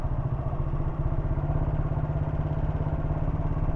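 Motorcycle riding through rain, its steady mid-pitched engine drone loud and close with a rapid pulsing rhythm throughout, no voices heard.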